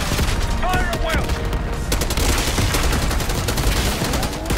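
Rapid, dense gunfire in the video game Black Ops 6, continuous bursts of automatic fire with sharp cracks throughout, a brief voice rising over the din near the start.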